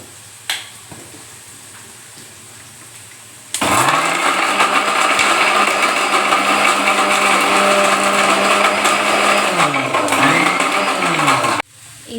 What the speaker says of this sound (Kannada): ಎಲ್ಲ ಮಿಕ್ಸಿ ಸ್ಟಾರ್ಟ್ ಮಾಡ್ತೀನಿ.